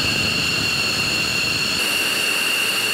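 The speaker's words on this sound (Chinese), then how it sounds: "进行试车其实也像飞机要准备飞行前一样" An F-16V fighter jet engine runs during a ground test, a loud, close, steady roar with a high whining tone held throughout, and the low rumble drops slightly partway through.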